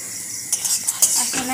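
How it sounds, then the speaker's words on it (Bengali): Potatoes fry in a pan with a soft sizzle, broken by a few quick metallic clinks and scrapes of a utensil stirring against the pan. "তো আলু ভাজছে আর বেগুন ভেজেছে"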